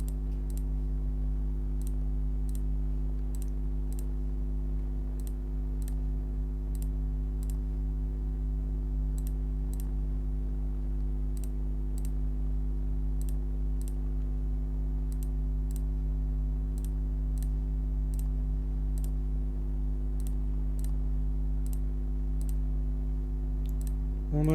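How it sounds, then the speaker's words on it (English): A computer mouse clicked repeatedly during a football management game session, sharp distinct clicks in irregular small bursts over a loud steady low electrical hum, with no talking. "The sound of my mouse clicking must be bothering you to no end right now"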